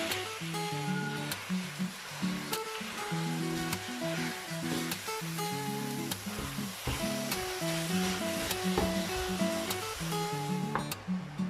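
A kilo of beef mince frying with garlic in a pan, giving a steady close sizzle with stirring scrapes throughout and no talk.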